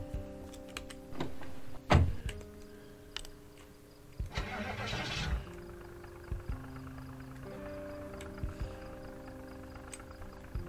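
A car engine in the video game Project Zomboid cranks with a sharp clunk, turns over in a loud rough burst, then settles into a steady low idle hum with occasional clicks and small thumps.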